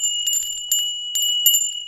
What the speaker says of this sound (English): Zachariah, where's my tinkly bell?